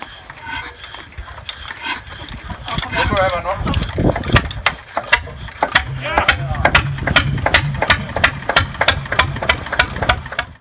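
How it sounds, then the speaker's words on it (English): A rare hot-bulb semi-diesel engine with a Ricardo Whirlpool pre-combustion chamber, once powering an air compressor for a mining camp in Quartzsite, Arizona, runs with steady rhythmic mechanical knocks and rasping clatter, growing louder and more regular toward the end. "engine is a semi-diesel that uses a hot bulb ignition to vaporize heavy oils"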